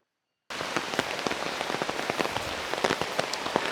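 Rain patters steadily on an umbrella near the Gunung Bekel base camp, a dense close drumming of drops that starts abruptly after a moment of silence and carries on alone.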